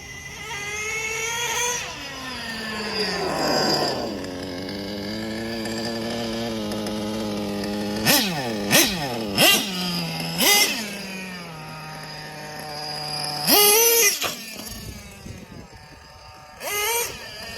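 A Traxxas T-Maxx nitro RC truck engine whines steadily as the truck drives back and forth, its pitch rising and falling, with several sharp revving bursts in the second half.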